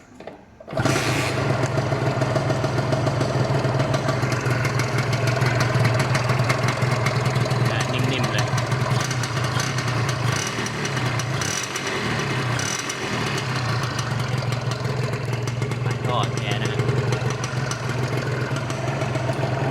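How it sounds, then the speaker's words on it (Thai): A stock-engine Ls125T motorcycle starts and settles into a steady, loud idle that continues close by, with no talk over the running engine. "ฟังเสียงกันดีกว่า สตาร์ทติดง่ายนะฮะ"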